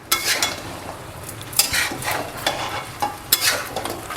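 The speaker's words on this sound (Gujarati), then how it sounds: "ધીરે ધીરે આપણે હલાવતા જઈએ, મિક્સ કરતા જઈએ" Fried ingredients, including fried fenugreek dumplings, are slowly stirred and mixed in a pan over medium heat for Gujarati undhiyu. Scraping strokes come at irregular intervals over a low background sizzle, close and without speech.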